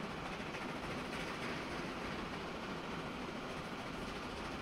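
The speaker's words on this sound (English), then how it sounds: "we've got a massive long train, and well, apparently it has enough power to get up to 60 kph" A massive long train runs in the railway simulation game Transport Fever 2, giving a steady, even rumble of rolling wagons with no voices.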